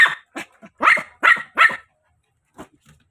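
Two dogs barking in a series of sharp, close barks, several in quick succession and then a couple of fainter ones after a pause, with no talking over them.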